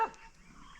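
Dogs bark near a lone home in dense forest, two quick loud bursts at the start and end with a quiet gap between.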